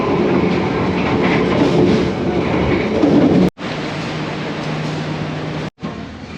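Trains pass through a station at night with a loud, steady rolling rumble and rhythmic clickety-clack of wheels, broken by two sudden brief cutoffs.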